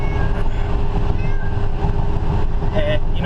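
Cats meowing outdoors in a pleasant open setting, several drawn-out, wavering cries rising over a steady background hum, loud and close, with people talking in between.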